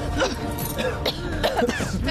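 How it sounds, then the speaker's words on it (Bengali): Several rough coughs and throat-clearing sounds from a person in a tense indoor scene from a Bengali TV drama, close and fairly loud, mixed with breathy vocal noise and a hum of background sound. "এখন কাশিটা দরকার। কাশি হলে হার্টটা পাম্প হবে। কাশো কাশো।"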